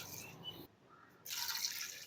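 Two glasses of water poured into a mutton karahi pot with tomatoes and masala, a soft liquid splashing that stops briefly, then returns as a brighter, louder pour close by.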